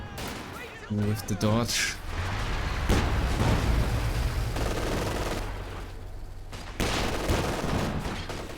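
A grenade blast and bursts of gunfire from a war video game in a 1v1 cup quarterfinal, loud and dense, running under a commentator's continuous voice.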